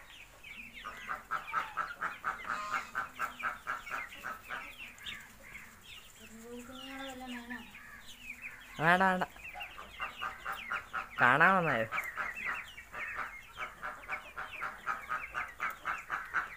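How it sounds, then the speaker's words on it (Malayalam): Black Karinkozhi naked-neck chicks peep in a rapid, continuous chorus close by on a farm, while larger birds let out a few louder, rising calls and a person speaks briefly over them. "കരിങ്കോഴിക്കുഞ്ഞുങ്ങൾ കഴുത്തപ്പപ്പില്ലാത്ത കോഴിക്കുഞ്ഞുങ്ങളാണ്."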